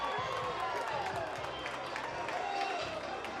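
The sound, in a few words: Troy baseball crowd cheering after a triple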